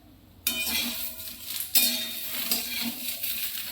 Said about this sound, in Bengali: আর একটু ভাজবো আমি